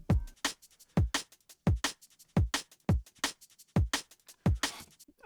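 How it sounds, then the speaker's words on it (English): A looped drum-and-bass groove: punchy kicks and crisp snares with busy hi-hats, repeating steadily at a quick tempo, alone with no voices. "I started with this like splice drum sample, and that sounds like this"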